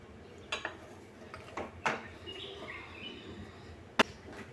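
A metal lid clinks onto a pot of freshly made kheer in a home kitchen, giving a few light, sharp clatters. A final bright ring stands out against a quiet room.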